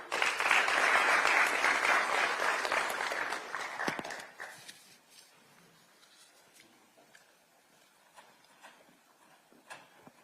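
A standing audience of Kenyans in Beijing applauds President Ruto with loud, dense clapping for about four seconds, then it thins to scattered claps in a quiet hall.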